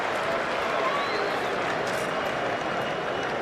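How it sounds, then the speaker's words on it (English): A cricket crowd at Lord's during the 2019 Ashes roaring and clapping in a steady, dense wash of cheering that holds at full volume throughout. "Big cheer comes up."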